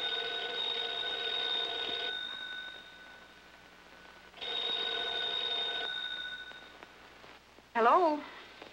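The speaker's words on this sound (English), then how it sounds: "Answer the phone." An old-fashioned telephone bell rings in a domestic sitcom scene, two long rings with a pause between them. A brief higher sound closes the clip, and no voice is heard.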